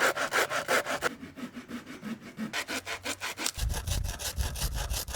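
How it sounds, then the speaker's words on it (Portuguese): Repeated back-and-forth strokes of a hand saw cutting through bamboo poles propping up logs in an outdoor compost windrow, steady rhythmic rasps close by, alone with no talk, a low rumble entering toward the end. "eu vou serrar o excedente da altura dos bambus que ficaram"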